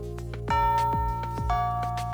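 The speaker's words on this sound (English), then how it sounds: "With that bell signaling the end of classes sounds." A school bell sounding the end of classes, ringing in a few steady chimes with sustained tones over a humming background.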